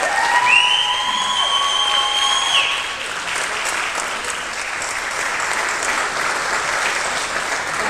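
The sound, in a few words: audience applause and cheering for the class of 2021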